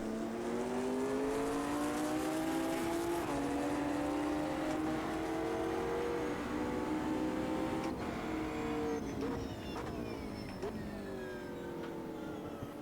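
A Volkswagen Jetta race car's engine in the Automobilista 2 racing game, during a GT3/GT4 race at Imola, drones loudly and steadily with shifting pitch, and brief clicks and sharper transients come toward the end.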